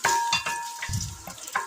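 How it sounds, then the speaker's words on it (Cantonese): Ten grams of shredded ginger fry in a tablespoon of hot oil in a pan over high heat, giving a brief sizzle broken by a few light clatters. "大火熱鍋以下1湯匙油，油熱10g 嘅薑絲，煎香20秒。"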